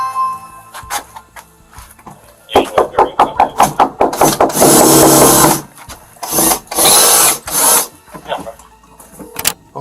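A power drill bores into a door lock in a series of short loud bursts, whining and grinding at close range, with brief pauses between pulses and sustained runs.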